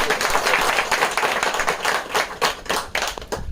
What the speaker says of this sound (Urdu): میں چاہوں گا کہ راشد بھائی کی اور ان کی ٹیم کی حوصلہ افزائی کے لیے تمام لوگ ایک پرزور تالیاں ذرا بجائیں